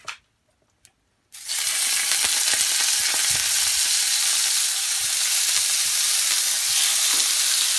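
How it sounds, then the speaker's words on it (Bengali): Prawns sautéing with salt in a hot pan, a loud steady sizzle that starts abruptly after a second of near silence and then holds constant with faint stirring scrapes. "চিংড়ি মাছগুলোকে পুরো ভালো করে একটু নুন দিয়ে একটু সাঁতলে নেব"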